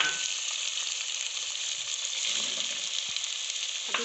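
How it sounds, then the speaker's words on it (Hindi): Chicken, potatoes and peas fry in a pan, giving a continuous moderate sizzle with faint stirring knocks and a soft clink near the end. "मटर और आलू ऐड करके इनको हम फ्राई करेंगे"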